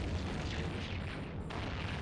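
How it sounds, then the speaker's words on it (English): An Inferno torpedo explosion in the space game EVE Online, a loud, broad rumbling boom that fills the whole short stretch with little change. "we're using the Inferno torpedoes. It's causing us to make a really big red explosion"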